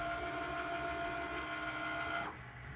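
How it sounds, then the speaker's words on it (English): Cricut Maker cutting an infusible ink sheet, a steady close motor whine with a carriage tone that holds for about two seconds and then drops as movement stops, fairly quiet. "hit that cute little Cricut button on your Maker machine to start the cutting process"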